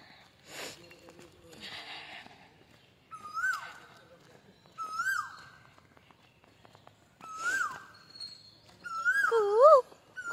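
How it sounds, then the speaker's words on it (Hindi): An Asian koel calls in the early morning outdoors, repeating a clear rising whistled note about four times at even intervals, moderately near, with some broadband rustling and possible voices earlier. "कोयल की आवाज।"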